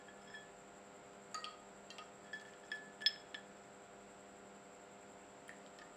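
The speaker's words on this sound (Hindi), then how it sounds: "इसको ठंडा करने के लिए इसके अंदर आइस क्यूब डाल देते हैं।" Ice cubes dropped into a glass of nimbu pani lemonade give a handful of faint, scattered clinks over a steady low electrical hum.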